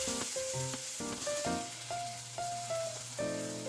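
Sweet-savory sauce of cooking sake, mirin and soy sauce simmering and reducing in a pan over pan-browned food, a steady close sizzle with bubbling crackles and faint musical tones running underneath.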